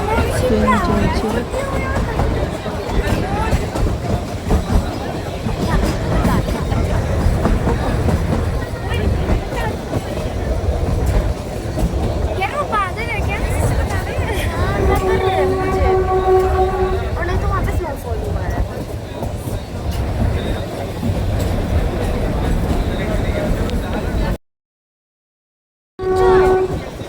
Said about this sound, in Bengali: ট্রেন চলছে।